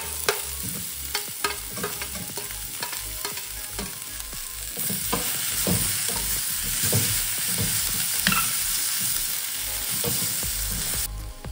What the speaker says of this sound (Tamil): வெங்காயம் கொஞ்சம் வதங்கிடுச்சு, தக்காளியும் போட்டுக்கலாம்.